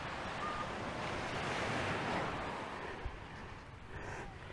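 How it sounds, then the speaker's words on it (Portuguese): Ocean surf rolling onto a beach lined with coconut palms in a small Angolan town, a continuous loud wash of breaking waves with gusty wind noise and no talking. "A ouvir o som das ondas, é uma enorme terapia"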